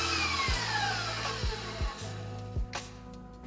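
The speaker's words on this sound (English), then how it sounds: "I will just mix that again until it's all well combined" Electric hand mixer whirring steadily through aquafaba, apple cider vinegar and vanilla, close and loud, with the motor pitch shifting and brief knocks of the beaters against the bowl.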